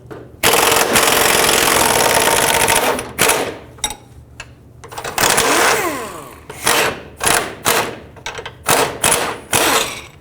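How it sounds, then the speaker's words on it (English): Wrench and impact noise while removing a control arm bolt from a 2005-2009 Chevy Equinox's front suspension: a long loud burst, then a series of short rhythmic loud bursts close by, with no talk. "So I'm going to hold the nut with a wrench and remove the bolt."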